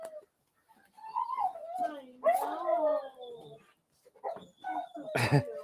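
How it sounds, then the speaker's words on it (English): A dog whines and whimpers in drawn-out, rising and falling tones with a short bark near the end, fairly close, during an outdoor breakfast cook on a griddle. "That's my buddy's dog. If you can hear him."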